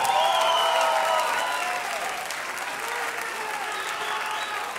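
Live audience applause at a concert for the bass player, a steady crowd of clapping that starts loud and eases to an even, sustained roar, with no talk over it.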